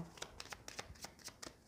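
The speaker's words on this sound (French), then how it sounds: "Je vais tirer un peu plus de cartes avec le petit Lenormand" Petit Lenormand cards are drawn one after another, a quiet run of about eight soft, quick card flicks and slaps close by.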